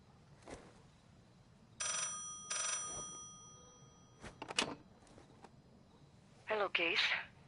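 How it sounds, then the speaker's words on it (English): A telephone ringing in a phone booth in the Black Ops 6 video game, a few short bursts of bell-like ringing in broken rhythm amid quiet background, with a voice speaking near the end. "Hello, Case. Check under the phone booth"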